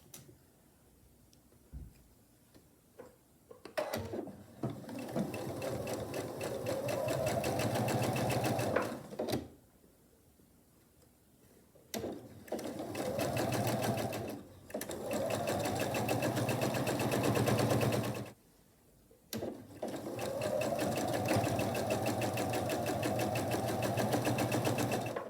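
Sewing machine stitching quilt block pieces for a lattice square block, running in three long steady bursts with short pauses between, close and clear with no talking.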